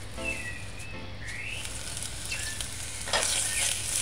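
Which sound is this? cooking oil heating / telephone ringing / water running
cooking oil heating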